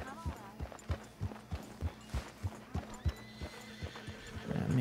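Horse hooves clip-clop in a steady rhythm while a horse neighs and whinnies nearby, a voice briefly murmuring underneath, in the video game Red Dead Redemption 2.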